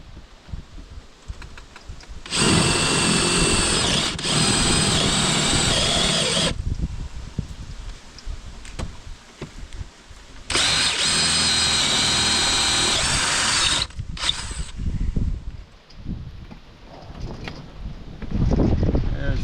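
A power drill whirs loudly in two long bursts of several seconds each, drilling a hole outdoors in remote wilderness, with quieter handling noises and faint rustling in between.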